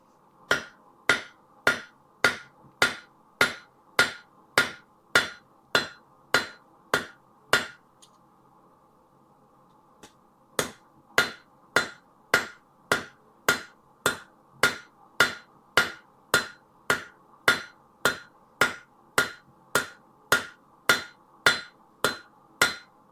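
Hammer forging a spoon: a steady run of loud, sharp metallic strikes at a regular rhythm, one brief pause partway through, then the blows resume at the same pace, close and without talking.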